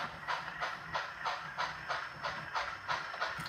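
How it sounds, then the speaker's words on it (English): Model trains running on a railroad layout during switching operations, a steady rhythmic clickety-clack of wheels over rail joints repeating about every half second, fairly close, with no talk. "running 2 trains"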